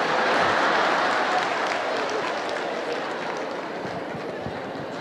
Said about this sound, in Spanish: Ese aplauso es para las señoras